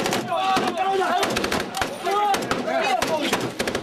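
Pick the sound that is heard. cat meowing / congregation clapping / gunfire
gunfire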